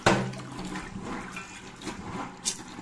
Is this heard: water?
yes